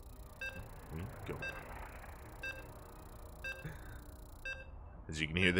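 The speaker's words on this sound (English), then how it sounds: "As you can hear the beeps" Evenly spaced electronic countdown beeps from a StarCraft II match in an online tournament sound at roughly one-second intervals, quiet and clear, over a low background hum before the game starts.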